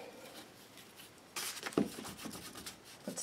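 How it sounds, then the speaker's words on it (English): A glue stick rubbed across a sheet of paper while making a craft tag for an altered book, heard as a few short scraping strokes, close and fairly quiet against a faint room background. "put some glue on both sides of this paper"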